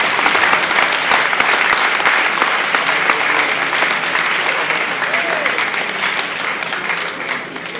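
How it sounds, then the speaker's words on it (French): Sustained applause from an audience at the inauguration of an association, a dense, steady wash of clapping lasting several seconds that eases slightly toward the end. "On l'applaudit bien fort, s'il vous plaît."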